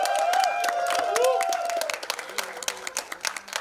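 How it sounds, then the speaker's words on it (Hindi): Crowd clapping and cheering at a film song launch event with Rajkummar Rao and Janhvi Kapoor, starting under a loud voice and sustained musical tones, then continuing as scattered, uneven claps. "जोरदार ताली हो जाए गाइस।"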